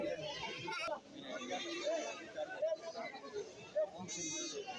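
Goats bleat at a crowded festival goat market in Kerala, with wavering calls rising over someone talking nearby.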